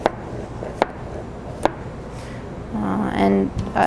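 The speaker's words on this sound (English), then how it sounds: "we'll go ahead and make our dices. So we'll cut through" A knife chopping squash into dice on a cutting board, three sharp, spaced taps before a voice speaks over the last stretch.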